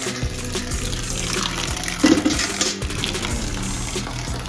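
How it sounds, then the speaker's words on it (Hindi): RO-filtered drinking water runs into a container from a tap: a steady splashing flow heard close up and alone, with a brief louder surge midway. "तो आरओ का पानी भर के ऊपर ले जाता हूँ"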